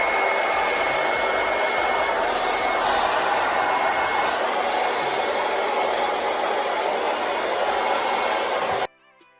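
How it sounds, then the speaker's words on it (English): A hair dryer with a diffuser runs on medium setting over hair, a loud, steady whooshing roar lasting almost nine seconds before cutting off abruptly. "then we start with diffusing. Hover all over your hair."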